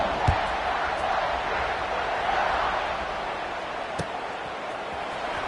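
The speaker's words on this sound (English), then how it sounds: "this crowd is buzzing after that last score" A football stadium crowd at a Penn State versus Ohio State game buzzes steadily after a touchdown score, a broad, continuous roar filling the space with a few sharp thumps and claps rising briefly above it.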